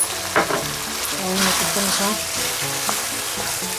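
Sheep tripe (ojri) frying in a pan, a loud steady sizzle with stirring and scraping close by, and a voice murmuring briefly underneath.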